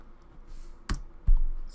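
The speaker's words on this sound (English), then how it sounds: "So if we type enable" The enable command is typed on a computer keyboard while configuring a Cisco switch, heard as two distinct close key clicks over quiet background hiss, with no talking.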